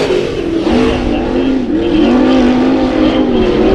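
Race cars roar around the dirt oval at Bakersfield Speedway during a heat race, engines loud and close with a continuous revving drone that rises and falls.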